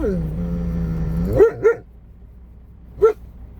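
A voice trails off, then a dog gives three sharp barks nearby, two in quick succession and one more after a pause.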